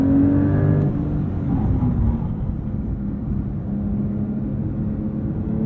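A Porsche 911 Sport Classic, a rear-engined rear-drive sports car, is driven along, its engine giving a steady loud drone that eases slightly after an initial stronger pull, with no voices.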